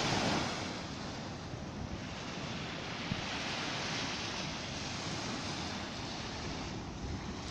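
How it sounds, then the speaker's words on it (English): Small ocean waves on a sunny day wash in with a steady, broad hiss and rush, fairly close, with some wind noise on the microphone and no talk. "Nice sound of the waves."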